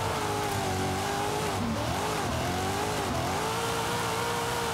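A BMW M2 Formula Drift car in Forza Horizon 5 drives on wet roads, its engine revving hard near redline with wavering pitch as it shifts and slides, along with faint tire squeal.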